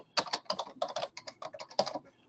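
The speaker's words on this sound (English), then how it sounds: "Once I start typing in a fund here" Rapid bursts of keystrokes on a computer keyboard as a fund name is entered into a grant management database form, close and clear with brief pauses between clusters of clicks.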